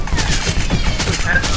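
Gunfire rings out in a Red Dead video game, a dense rapid volley of loud shots cracking over one another with booming tails throughout.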